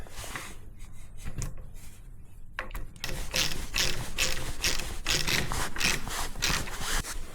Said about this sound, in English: just put these Delrin sliders back in place.